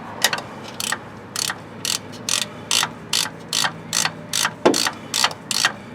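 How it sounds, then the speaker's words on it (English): A ratchet wrench clicking steadily while a starter is installed on a 2002 Ford F150 with a 4.2L V6, about a dozen short even bursts of close metallic ratcheting. "Let me angle this ratchet back a little."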